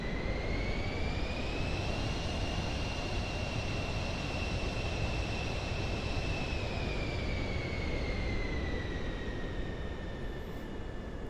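A jet aircraft engine runs steadily in Microsoft Flight Simulator 2024, giving a loud continuous roar with a high whining tone that rises slightly, then settles and falls.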